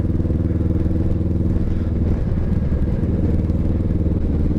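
A Kawasaki Vulcan S motorcycle engine rumbles loudly and continuously while being ridden, a deep, steady, close throb with slight shifts in pitch and no voices over it.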